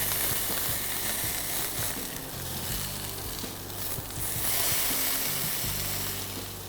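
Potatoes with garlic sauté in a pan, a dense, loud crackling sizzle that holds steady throughout, with occasional scrapes and knocks of turning close by.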